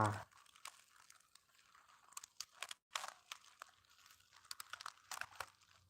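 A crinkly food wrapper is torn and pulled open at a meal, making irregular, close crackling and ripping bursts. Someone talks quietly in between.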